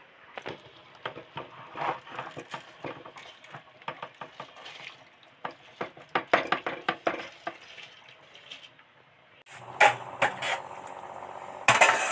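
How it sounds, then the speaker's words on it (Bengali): Washed atap rice is tipped into a pot of simmering dal and vegetables, making a scattered patter of grains and light metallic scraping against the pot, close and fairly quiet, followed by louder clatter near the end. "এবার আতপ চালটা ধুয়ে রেখেছিলাম সেটাই এর মধ্যে উঠিয়ে দিচ্ছি"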